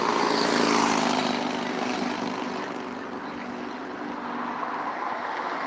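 A steady engine drone with a broad rotor-like rumble passes overhead, loud at first and fading slightly as it moves away, with no voices.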